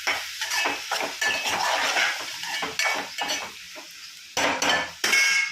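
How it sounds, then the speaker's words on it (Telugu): Tomato pieces being stirred into softened onions in a pan, with a spoon scraping and knocking against the metal in uneven strokes over a soft sizzle, close and without speech. "ఇప్పుడైతే టమాటా ముక్కలు వేసుకుందాం"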